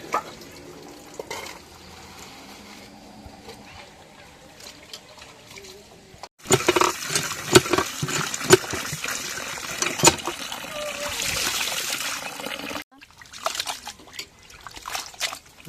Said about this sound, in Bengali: আর এদিক দিয়ে এই লাভলি মাংস ধোয়ার জন্য রেডি।